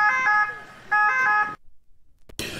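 An ambulance siren sounds at a ceremony where the health minister hands over keys to new ambulances. Loud two-tone wailing bursts repeat for about a second and a half, then cut to silence before a short burst of noise at the end.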